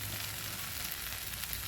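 Taro flowers fry in a pan, giving a continuous, even sizzle and crackle at close range with no one speaking.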